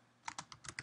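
Fingers tap a computer keyboard while a fastboot recovery command is entered to root a Galaxy Nexus phone, five or six quick, close, light keystrokes alone in a quiet room.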